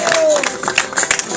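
Crowd applause and cheering for a rapper at a freestyle rap battle. It is a brief, busy burst of clapping mixed with shouting voices.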